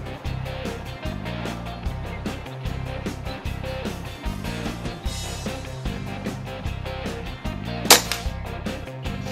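Air Arms TX200 Mark III .22 caliber sliding-breech underlever air rifle fires a single sharp crack near the end, set against a steady rhythmic pulsing background in a light outdoor breeze.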